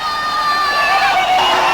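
Crowd of protesters at a 1983–84 Stop The City demonstration in the City of London, a loud continuous mass of shouting and cheering voices with raised calls rising above the din.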